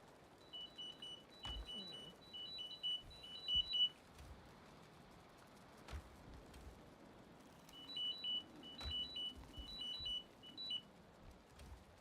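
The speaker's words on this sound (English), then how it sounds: "That beeping sounds amazing." Rapid electronic beeping in two separate bursts, high and synthetic like sound effects in a Viking video game, with a few soft thumps in the quiet background.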